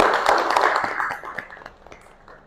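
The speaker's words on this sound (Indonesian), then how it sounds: "Untuk jawabannya silakan beri tepuk tangan teman-teman ya." Classmates in a classroom clap their hands, a brief scattered patter of claps that starts moderately loud and tapers off within a couple of seconds.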